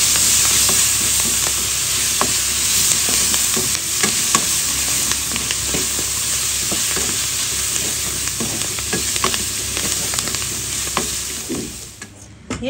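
Buff meat with soybean greens and chives stir-fried in a hot pan, a steady loud sizzle with frequent scraping stir strokes throughout, dropping off briefly near the end.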